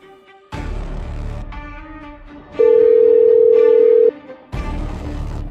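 A phone call cuts off into a steady, loud disconnect tone lasting about a second and a half, set between stretches of background music.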